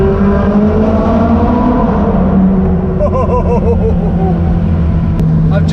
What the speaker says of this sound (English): now driving a Ferrari 458 Spider